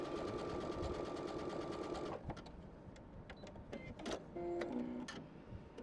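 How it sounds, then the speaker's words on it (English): A Brother PS500 sewing machine stitches a zigzag with a fast, even mechanical chatter, then slows into sparser clicks and short motor whirs. "So now I'm going to go ahead and just do this stitching. And this is what they think the average zigzag is like."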